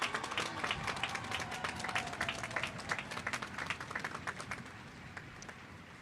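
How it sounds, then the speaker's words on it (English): A graduation audience at a high school ceremony clapping for their loved ones, a sustained wash of applause from a large crowd that gradually thins out and fades. "take a second and clap it up for your loved ones"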